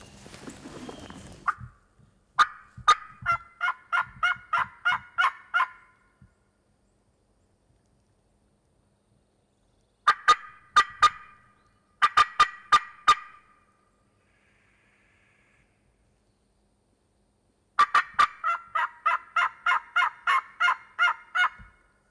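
Wild turkeys gobble on opening day of a turkey hunt in Southern bottomland woods: several loud, rapid rattling gobble bursts separated by quiet gaps, some close and clear, with no talk.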